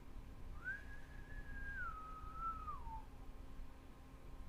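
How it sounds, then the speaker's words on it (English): A single happy whistled tune drifts from afar, one faint, smooth melodic line that holds, then slides downward and fades away over a steady background hush. "You hear in the distance the happy whistling from before fade off"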